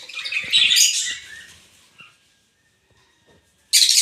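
Small parrots let out a burst of harsh, shrill squawks up close, fall silent for a moment, then break into another sharp squawk.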